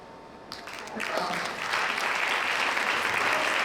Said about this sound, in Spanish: El aplauso es un sincero agradecimiento por esa labor